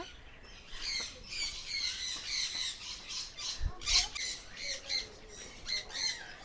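Repeated harsh bird squawks and chirps overlapping one another in an aviary in Kerala, fairly close and busy, with a low thump partway through.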